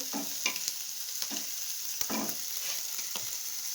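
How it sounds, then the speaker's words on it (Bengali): Prawns frying in hot oil in a pan give a steady, close sizzle, broken every half second or so by sharp scraping stirs. "চিংড়ি মাছটা ভেজে নিচ্ছি"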